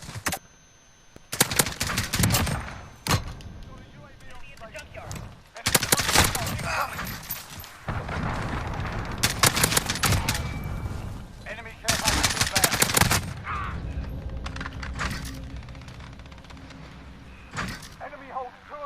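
AR-15 rifle fired on semi-automatic in Call of Duty Modern Warfare, loud sharp shots in separate bursts and clusters with short gaps between, plus game sounds and a voice in the background.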